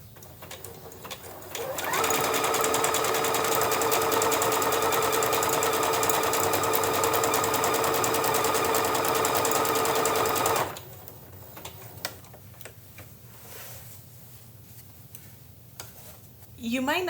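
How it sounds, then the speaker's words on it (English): A sewing machine stitches appliqué onto a tote bag at high speed, a loud, fast, continuous rattle of needle strokes lasting several seconds before stopping, followed by quieter handling sounds. "You might not feel comfortable with how fast the machine is sewing"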